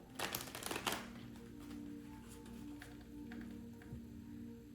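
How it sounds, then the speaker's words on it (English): Tarot cards shuffled briskly on a desk, a burst of quick riffling at first, then quieter sliding and tapping under a faint hum. "Trying not to shuffle them too loud on the surface of the desk."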